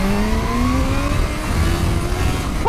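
A supercharged Kawasaki Z-H2 SE motorcycle accelerates hard in first gear on a private road, its engine note climbing steadily in pitch through a loud rising rev with wind rush, then settling into a sustained drone.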